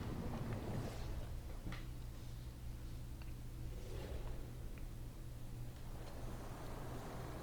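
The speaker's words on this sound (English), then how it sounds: "We're about to go on the boat." A boat ride in the video game Absolum carries a low, steady engine-like drone and a wash of wind and water noise, soft and continuous, with no talk over it.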